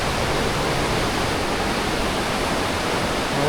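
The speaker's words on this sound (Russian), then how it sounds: "такой мини-водопадик" Steady, dense rush of a small waterfall in Partnach Gorge in the Alps, continuous and fairly loud, with no voices.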